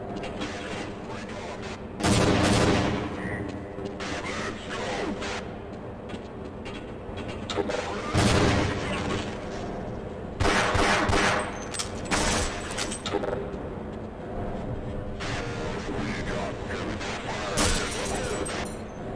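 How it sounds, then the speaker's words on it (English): Grenade explosions and bursts of gunfire in the video game Half-Life, with several loud broadband blasts and rattling shots over a steady game soundscape, heard without talk. "Oh, that's a grenade."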